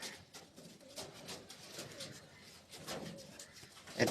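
A newly bought pigeon cooing softly and repeatedly at close range, the low murmuring calls faint and broken by light rustling, with a sharper bump at the very end.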